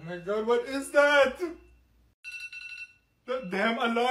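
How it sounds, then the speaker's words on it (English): An alarm rings in brief electronic bursts at home between stretches of excited speech, its tone cutting in alone for about a second before talking resumes. "That damn alarm!"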